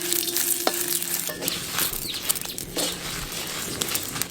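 Dried red chillies and coriander seeds dry-roasting in a pan, with scraping and rattling from stirring, sharp ticks and clatters over a soft background hiss, close and uneven.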